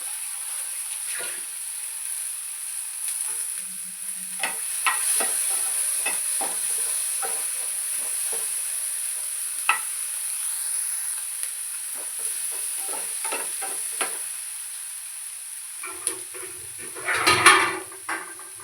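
Vegetables stir-fry in a hot pan at home, a steady close sizzle and hiss broken by frequent scraping and tapping strokes of a spoon against the pan, with a louder clatter near the end.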